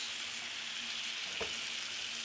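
Steak pieces and potatoes frying in a pan, a steady loud sizzle close by with a brief scrape of stirring partway through.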